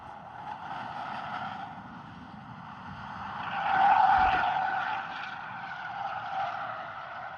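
A Lucid Air Sapphire slides through a drift on a dusty track, its tires squealing in a sustained, steady wail that swells to a peak midway and then eases off, with no talk over it.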